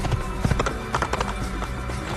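Horse hooves clip-clop at a walking pace in the video game Assassin's Creed, a short run of light, evenly spaced steps over faint background game ambience.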